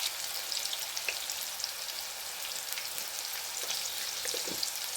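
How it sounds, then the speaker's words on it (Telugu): Onions with salt frying in a pan make a dense, steady hiss of crackling oil throughout, with faint occasional stirring ticks; no talking. "టైంలో లైట్గా సాల్ట్ వేసుకుంది ఆనియన్స్ అనేవి ఫాస్ట్గా ఎగుతాయి"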